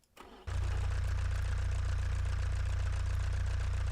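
A car engine in the driving game BeamNG starts up and settles into a loud, steady, low rumbling idle with a slightly rough, uneven tone, heard alone and close.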